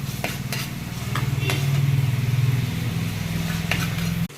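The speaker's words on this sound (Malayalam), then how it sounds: "ചീനച്ചട്ടിയിൽ 4 സ്പൂൺ വെളിച്ചെണ്ണ ഒഴിച്ച് ചൂടാകുമ്പോൾ ഒരു പിടി ചുവന്നുള്ളി, ഒരു ചെറിയ ചുള വെളുത്തുള്ളി, കുറച്ച് വേപ്പില, 5 പച്ചമുളക്, ഒരു ചെറിയ കഷ്ണം ഇഞ്ചി, ഇതെല്ലാം കൂടി ചതച്ച് നന്നായിട്ട് മൂപ്പിച്ചെടുക്കാം" Crushed shallots, garlic, curry leaves, green chilies and ginger fry and get stirred in four spoons of hot coconut oil in a pan for a fish curry. A continuous close sizzle with scraping and a low hum stops abruptly at the end.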